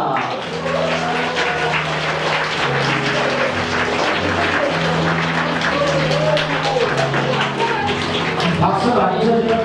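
Guests applaud as a family makes its entrance at a first birthday party in a banquet hall. Steady, busy clapping plays beneath a loud melodic tune.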